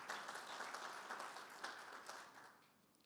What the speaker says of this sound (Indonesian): Yang setuju saya berikan tepuk tangan.